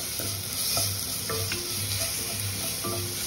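Garlic ginger paste sizzles with browning onions in a frying pan, a loud steady crackle close up with rhythmic stirring scrapes every half second or so, no talking.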